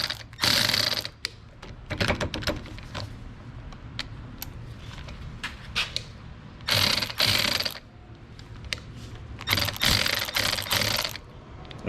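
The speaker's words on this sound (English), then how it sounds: "I'm going a little too fast with my electric ratchet." Electric ratchet used during brake lathe setup for rotor resurfacing, heard in several loud bursts of rapid clicking whir, each lasting about a second, separated by quieter mechanical handling noises with no talk.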